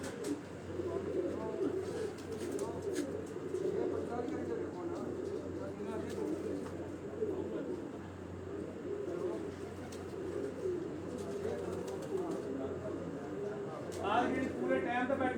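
Pigeons coo repeatedly on a rooftop in Rawalpindi at dusk, close and fairly steady, over a constant background hum, with a brief burst of other birdsong near the end.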